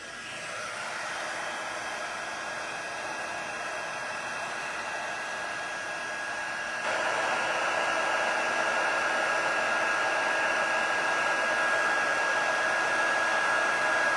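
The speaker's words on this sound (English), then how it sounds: "I'm going to try to hold this up so you can see it as I'm heat embossing it." A heat embossing tool blows hot air steadily over embossed cardstock, a continuous whirring hiss with a faint whine that steps up a little louder midway and keeps going, with no talking.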